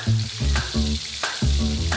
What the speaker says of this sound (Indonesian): Sekarang tinggal Mak goreng bumbunya.